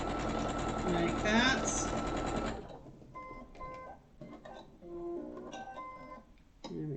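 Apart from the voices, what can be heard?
sewing machine stitching a bookshelf cushion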